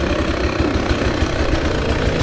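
Engine of a 2024 Beta 300 RR Race Edition dirt bike ridden on a single-track trail in second gear, a steady loud buzzing drone with rough vibration that continues without a break, close and alone.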